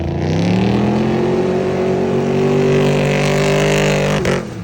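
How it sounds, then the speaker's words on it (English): A Ford Bronco engine revs hard and loud at a car show, a deep rumbling roar like a monster truck that holds steady and climbs before cutting off near the end. "insert how this Bronco sounds right now"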